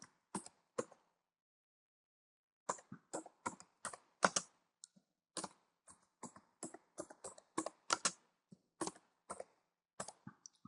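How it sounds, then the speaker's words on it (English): Typing on a computer keyboard, sparse clusters of crisp, close keystrokes separated by short pauses, quiet and with no talking. "we want to type the name of the organizational unit"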